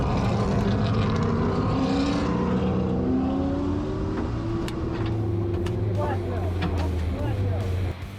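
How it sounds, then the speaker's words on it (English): Race cars circle the Circuit of the Americas track during a Trans Am event, engine tones rising and falling in passes at middle distance beneath steady wind noise and people talking nearby. "you can hear some cars going around"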